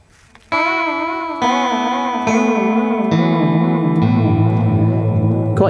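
Electric guitar through a chorus pedal with the speed turned up, several strummed chords ringing in turn with a fast, pronounced warbling vibrato, loud and up close, no voices.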